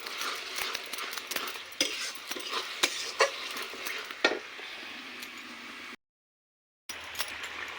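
Cabbage and fish head are stir-fried in a pan, with repeated clinks and scrapes of a spatula against metal over a light sizzle, the stirring strokes coming irregularly before a brief gap of silence.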